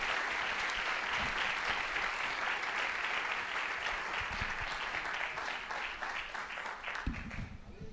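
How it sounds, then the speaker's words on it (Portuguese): A church congregation applauds, a steady dense wash of many hands clapping that carries on for the whole stretch at moderate distance, with no talking over it. "Dê um aplauso ao Senhor Jesus"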